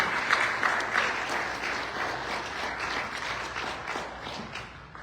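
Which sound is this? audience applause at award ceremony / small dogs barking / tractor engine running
audience applause at award ceremony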